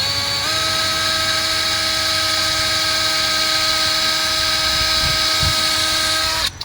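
A power drill bores into a bolt on a 1987 Ford F-150 with a 4.9L straight six, giving a steady high-pitched whine that runs close and loud for about six seconds, then cuts off abruptly.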